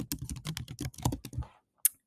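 Quick, close keystrokes on a computer keyboard enter a project name in a burst of rapid taps, then a brief pause and one final sharp key press.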